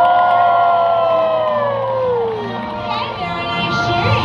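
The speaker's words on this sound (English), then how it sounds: "Okay, very nice cheering." An audience at the Universal Studios Hollywood Animal Actors show lets out a loud burst of screaming and cheering, including many children, which fades as a voice begins talking.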